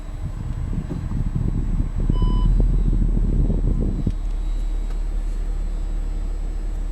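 A 2013 Audi S4 shifted into reverse gives a single short electronic beep from the cabin over a low, steady engine hum.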